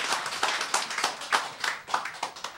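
A lecture audience claps in a brisk, uneven rhythm of about a dozen sharp, close hand claps over a couple of seconds, with no talking.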